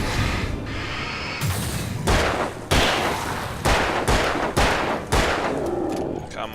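Gunfire in the Alan Wake video game: a string of loud, sharp shots at irregular intervals, each a hard broadband crack with a short tail, close and dominant over a steady noisy background.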